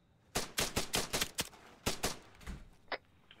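Rapid bursts of video-game gunfire ring out during a Russian Spetsnaz operation, with about nine loud, sharp shots in an uneven volley followed by a fainter crack near the end.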